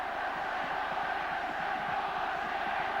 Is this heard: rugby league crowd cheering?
yes